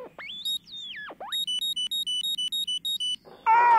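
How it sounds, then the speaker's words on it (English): A cartoon metal detector beeps over metal: a few sweeping electronic tones, then a rapid run of about a dozen evenly spaced high beeps, ending in a louder buzzing burst. No one talks. "It beeps when you hold it over anything made of metal."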